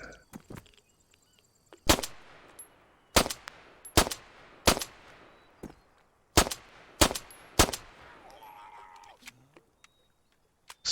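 Loud single gunshots crack out one at a time at irregular intervals in a zombie video game, each followed by a short decay, with near silence between the shots.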